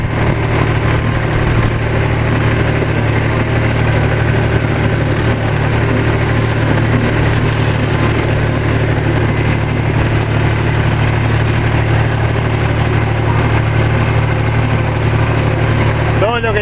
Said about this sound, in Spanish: Ando en trator.